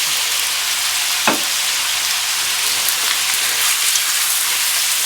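Carrots sizzle as they go into a hot pan for a young-chicken corn stew, a steady loud frying hiss with one sharp clatter near the start, no voices.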